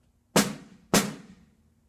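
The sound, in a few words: snare drum struck with snares on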